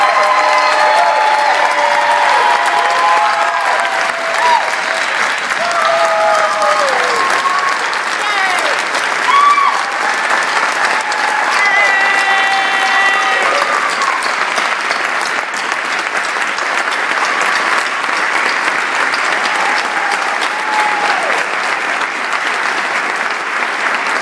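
Long, loud, sustained applause from an audience at a theatre rally in Virginia, with cheers and whoops rising above the steady clapping throughout.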